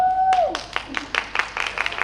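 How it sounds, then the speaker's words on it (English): Graduation audience at Lannaman's Preparatory School applauds the school director, with scattered, fairly close hand claps starting after a brief voiced tone and continuing unevenly. "I also want to give a round of applause to our director"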